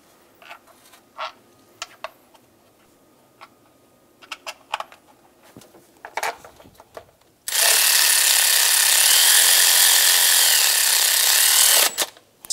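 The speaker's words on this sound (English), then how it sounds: "Install the four 10 millimeter bolts." Four 10 mm bolts on the timing cover of a 2000-2006 Toyota Tundra 4.7L V8 driven tight: scattered metallic clicks and handling, then a loud continuous power tool whine for several seconds, close by.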